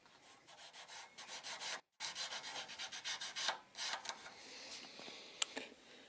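Sandpaper rubs against a turned wooden finial in rapid back-and-forth strokes with a brief pause, a steady close scratchy friction throughout, with no talking.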